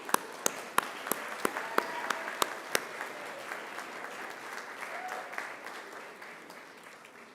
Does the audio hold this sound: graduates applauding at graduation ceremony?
yes